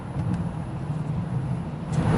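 A car driving down into a misty farming valley, a steady low engine and road rumble heard from inside, continuous and moderately loud with no talk.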